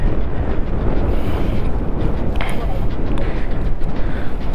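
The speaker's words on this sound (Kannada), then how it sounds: "ಗಾಳಿ ತುಂಬ ಇದೆ" Strong wind roars and buffets the microphone during a Hero XPulse motorcycle ride, a continuous, heavy low rumble that never lets up.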